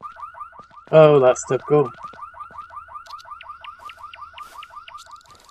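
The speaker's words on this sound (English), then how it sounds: "Go through the freaking door, the alarm goes off." A car-style alarm in the survival game No One Survived sounds a rapid, steady train of pulsed chirps that runs the whole time, with someone speaking briefly over it early on.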